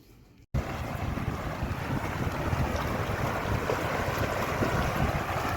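A cruise ship moves at sea in strong wind, a dense steady rush of wind and water noise that starts abruptly and stays loud throughout, with no voices.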